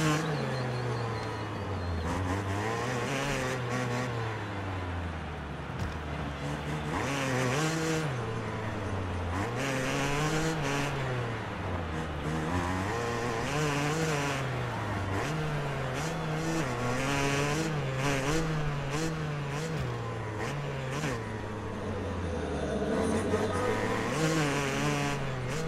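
A Yamaha YZ 250 two-stroke motocross bike in the MXGP Pro video game at the Uddevalla track, its engine buzzing and rising and falling through repeated revs and gear changes, loud and steady throughout with no talk.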